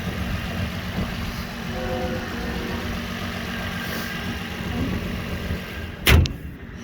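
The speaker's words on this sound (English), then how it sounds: "Here's the motor. It's a little bit dusty, but it sounds good." A 2004 Nissan Murano engine idles quietly and evenly, a faint steady hum, with a sharp door-like thump near the end.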